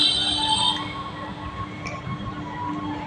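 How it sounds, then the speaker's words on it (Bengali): Rumbling train noise at Howrah station, with a high metallic squeal at first fading into a steady low drone and hum. "এই যে আমরা হাওড়া স্টেশনে পৌঁছে গেছি"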